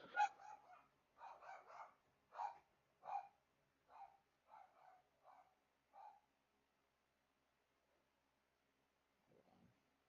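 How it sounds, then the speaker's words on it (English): Several dogs bark in a burst of about a dozen quick, fairly close yaps over six seconds, then fall silent, with one faint low bark near the end. "I don't know why they're barking."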